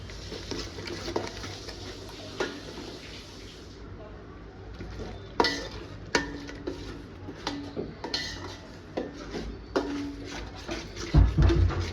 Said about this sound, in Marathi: ते आपण आता दही टाकलेलं आहे, त्याला व्यवस्थित घालून घेणार आहे.